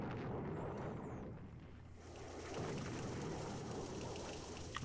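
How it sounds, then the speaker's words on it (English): Airstrikes and ground attacks in The Operational Art of War 4, in a Grenada 1983 scenario: a continuous, rain-like rumble of distant blasts with a brief falling whistle near the start, steady throughout with no voices. "So those are our airstrikes / ground attacks."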